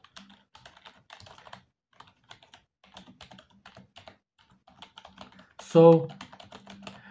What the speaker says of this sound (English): I'm going to show you when you are normally typing something in the Word